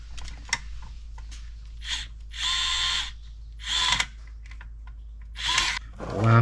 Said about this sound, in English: Use our screwdriver.